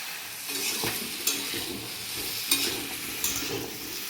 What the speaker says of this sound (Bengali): দিয়ে দিচ্ছি কেটে রাখা কুমড়োটা। এবার দিয়ে দিচ্ছি চিনি।